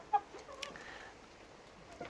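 A few soft, faint clucks and murmurs from chickens kept with guinea fowl, brief and sparse, with a quiet background.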